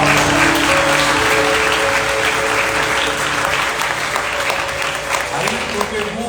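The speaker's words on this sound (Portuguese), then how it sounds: "Você pode aplaudir Jesus bem forte." Church congregation at a Monday evening service clapping loudly in a sustained, dense roar of applause, with a voice speaking over it and a low musical drone underneath.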